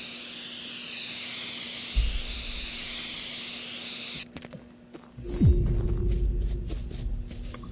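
A spray paint can hisses in the video game Drug Dealer Simulator, a steady loud spray that runs for about four seconds, then breaks off into short clicks and rattles before a second, rougher burst of spray.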